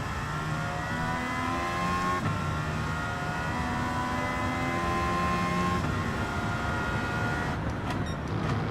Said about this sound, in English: It's so easy to hit the rev limiter when you put the overtake on because it just flings the car forward.